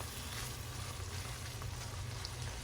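Paneer cubes being stirred into a simmering gravy in a pan, a soft continuous frying sizzle at low volume with no talking.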